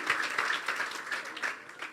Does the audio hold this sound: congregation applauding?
yes